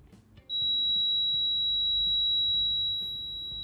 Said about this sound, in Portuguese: O bip pode ser útil nessas situações, né? Vamos ligar o bip.